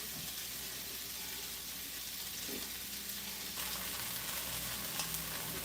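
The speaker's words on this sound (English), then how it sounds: "All right, so we're gonna add the white rice in." White rice goes into a hot pan for vegetable rice and sizzles in a continuous, even hiss that swells slightly partway through, close and fairly loud with no talking.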